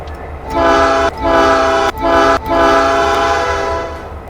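Locomotive horn in the railway game Rolling Line, three long loud tonal blasts in a row with short breaks between them. The last blast is the longest and trails off slowly, and no one talks over it.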